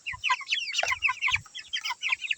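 Backyard chickens cluck busily in a pen where ducks are also kept, a dense run of short, overlapping clucks and squawks from several birds close by.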